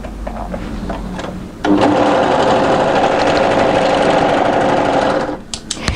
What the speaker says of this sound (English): So place it right sides together, and we're going to overlock that little short end.